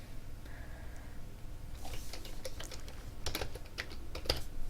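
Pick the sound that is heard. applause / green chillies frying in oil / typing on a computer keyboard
typing on a computer keyboard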